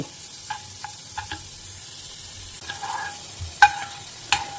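Pirandai (adamant creeper) sautéing in oil in a stone pot, a quiet steady sizzle with a few sharp clinks and scrapes of stirring, no talk.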